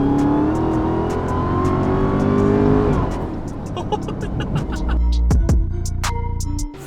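A car engine revs hard with a rising supercharger whine sweeping upward, then drops off before a second loud revving burst near the end, close and dominant throughout.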